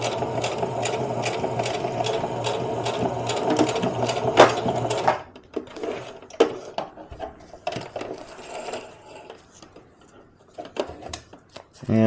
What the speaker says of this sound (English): But then you would put a stitch down the side of it.